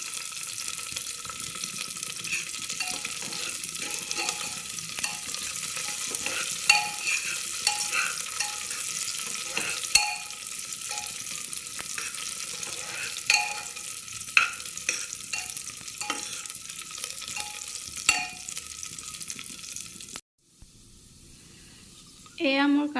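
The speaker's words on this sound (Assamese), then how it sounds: "এইখিনি ৰঙচুৱা হোৱালৈকে মই ভাজি ল'ম।" Cashews and raisins fry in oil in a pan on a low gas flame with a soft steady sizzle, while a spoon stirs them in repeated light scrapes and clinks, ending with a brief quieter pause.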